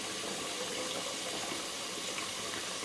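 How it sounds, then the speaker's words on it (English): Cold water runs steadily from a sink tap over a hot skillet, a constant even rush with no talk. "Let that cold water run on it for just a little bit."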